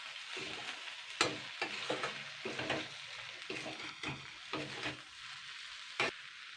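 Egg and okra frying together in a pan, a quiet sizzle broken by a rhythmic series of spatula scrapes and taps as the mixture is stirred, close and fairly soft with no voices.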